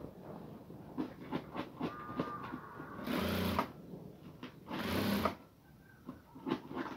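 A sewing machine stitches blouse fabric in quick, rhythmic bursts of clattering needle strokes. Two longer, louder runs of continuous stitching come close up, with short pauses and handling sounds between them.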